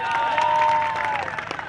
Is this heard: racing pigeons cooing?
no